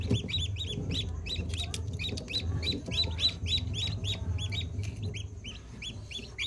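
Newly hatched chicks in an egg incubator peep in a steady run of high, repeated chirps over a constant low mechanical hum, close and clear, with no voices.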